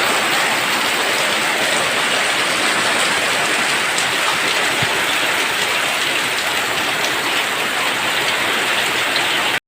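Heavy evening rain falls steadily, a dense, even hiss of drops on surfaces continuing unbroken throughout with no voices.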